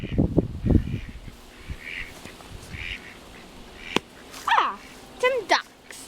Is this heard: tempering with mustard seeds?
no